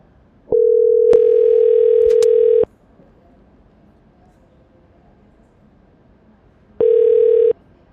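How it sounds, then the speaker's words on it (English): Ringback tone of an outgoing phone call to a seller lead: a steady, buzzy electronic tone holds for about two seconds, a few faint clicks sit over it, then a long pause follows before a second ring starts and is cut short. No one speaks. "Let's call"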